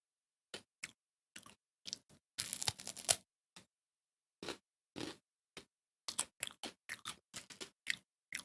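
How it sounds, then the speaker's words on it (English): A salty, citrusy, crunchy cracker is chewed close up, with irregular sharp crunches and bites coming in quick bursts and short pauses, and no one talking. "It's like a salty, citrusy cracker kind of thing."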